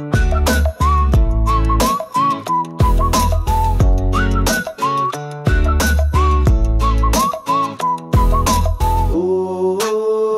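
A person whistles a cheerful, loud, melodic tune close up, with rhythmic phrases and sliding notes over a steady musical backing, ending on a held tone.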